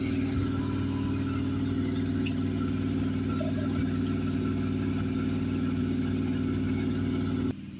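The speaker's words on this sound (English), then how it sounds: "While the truck's over there warming up" A project truck's engine idles while warming up for winter, giving a steady, even mid-range rumble with a constant low hum that runs unbroken and alone until it cuts off abruptly at the end.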